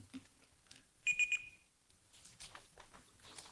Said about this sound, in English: you just heard the timer beep